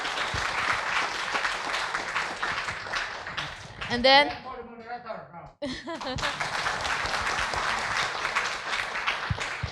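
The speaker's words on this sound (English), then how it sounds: "So please give one more applause for all of them." Audience applause fills a conference hall for plenary session speakers, dense steady clapping running most of the way, broken midway by a short spoken phrase before resuming at full strength.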